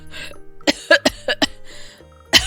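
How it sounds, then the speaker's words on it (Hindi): A mother coughs loudly and repeatedly on a cot at home, with several sharp, harsh bursts in an uneven rhythm, close and loud. "सामने की चारपाई पर उसकी माँ जोर जोर से खांस रही होती है"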